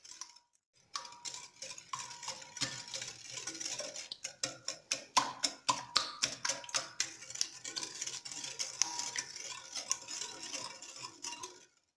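A spoon stirring a harcha mixture of semolina and coconut in a bowl, producing a steady run of quick, close clicks and taps against the sides, alone and fairly quiet.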